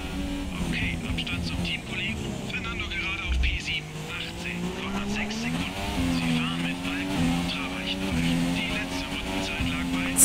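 Race car engine in F1 2017 at the Austrian circuit, revving and accelerating steadily with shifting pitch, continuous and fairly loud under someone speaking throughout.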